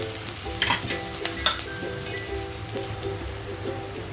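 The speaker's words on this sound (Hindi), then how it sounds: "तो ऑनियन जल्दी भून जाए इसीलिए हम ये नमक डाल देते हैं।" Chopped onions with salt sizzle steadily in a pan for a chicken curry, a close continuous crackling fry with occasional stirring scrapes and no talk.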